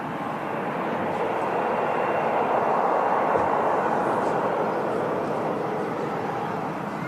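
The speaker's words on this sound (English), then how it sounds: "Something big starting its engines." Large aircraft spooling up its engines at Manchester Airport, a broad steady roar that swells gently and holds for several seconds, moderately loud at a distance with no talk over it.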